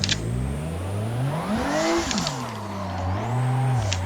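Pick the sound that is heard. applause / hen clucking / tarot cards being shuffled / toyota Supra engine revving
toyota Supra engine revving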